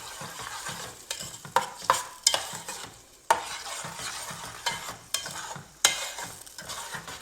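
Chana masala paste sautés in oil over a medium flame, with a steady low sizzle broken by repeated scraping stirs and sharp spoon clinks against the pan, close and unaccompanied by speech.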